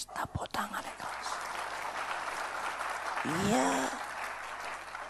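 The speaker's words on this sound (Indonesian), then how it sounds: "Tepuk tangan yang keras." A church congregation claps loudly during an Indonesian sermon, a sustained wash of applause filling the hall while a voice briefly speaks and whistle-like calls rise near the end.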